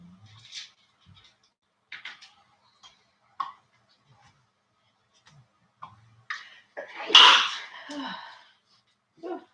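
A single sharp sneeze bursts out loudly near the end, after scattered quiet clicks and soft sounds in a calm room.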